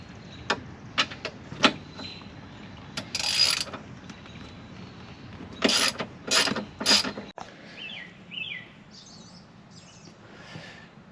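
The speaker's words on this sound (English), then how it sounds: "got a 1/2 inch socket with a 12mm star socket to go on top of that" Ratcheting clicks from a 1/2 inch socket ratchet fitted with a 12mm star socket, working a fastener on a 2021 Winnebago View; short bursts of close, sharp clicking separated by pauses, with quieter handling noise toward the end.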